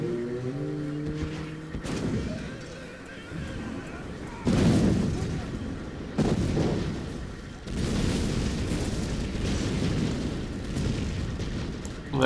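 Bombs drop and burst in C&C Generals Zero Hour, a real-time strategy game, with several separate booming blasts spaced across the stretch, each with a rumbling tail, amid game sounds and some talk.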